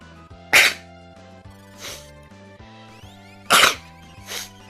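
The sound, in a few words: sneezing fit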